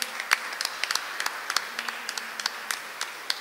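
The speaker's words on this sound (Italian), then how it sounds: "Le facciamo un applauso." A small audience claps for the third-place winner of a poetry contest. The applause is sparse and uneven, with distinct individual claps at a moderate distance that stay steady throughout.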